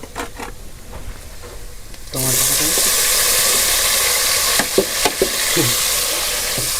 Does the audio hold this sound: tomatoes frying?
yes